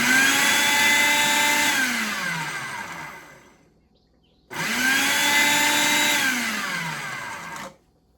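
A kitchen blender blends pico de gallo in two loud, steady runs of roughly three seconds each, separated by a short silence. Its pitch shifts downward as each run goes on.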